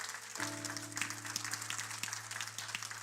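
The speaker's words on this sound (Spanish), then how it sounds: "Dele ese aplauso fuerte a Cristo, porque Él es bueno." A church congregation claps for Christ, steady applause at moderate distance over a low, sustained hum that starts partway through.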